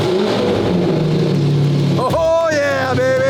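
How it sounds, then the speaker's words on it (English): Lamborghini Murcielago engine cold-starting, a loud rising roar that flares into a high revving whine before settling, with a voice talking over it. "Cold start."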